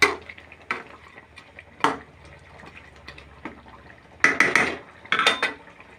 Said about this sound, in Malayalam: നമുക്കിതൊന്ന് ഇളക്കി കൊടുക്കാം